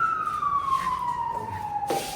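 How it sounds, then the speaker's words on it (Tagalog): A single siren tone slides steadily downward in pitch as it passes, moderately loud over background traffic hum. "Wala, ambulansya lang. Ambulansya."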